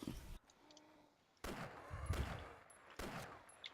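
Gunfire in the DayZ video game comes as three or four sharp, loud shots with short echoing tails, separated by brief quiet gaps.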